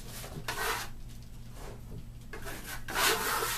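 A steel trowel spreads Marmorino Venetian plaster across a wall, giving broad, rasping scrapes in a few sustained strokes, with a quieter pause between the passes.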